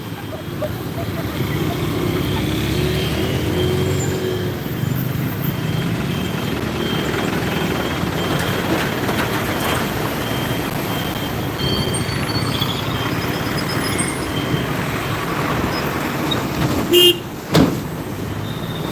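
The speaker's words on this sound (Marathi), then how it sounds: "आवाज तुम्हाला ऐकायला आला असेल की कशा पद्धतीने गाड्यांचा दापटण्याचा आवाज येतो आहे" Steady roar of road traffic with vehicles rumbling past, and a couple of sharp thuds near the end as wheels strike potholes.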